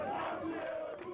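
An angry crowd gathered outside a police station where suspects are held, a dense wall of raised, overlapping voices shouting together, steady and moderately loud.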